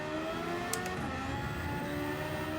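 Engine swap car in Gran Turismo 7 revving out, a steady droning engine note with harmonic whine held at constant level throughout, no voices.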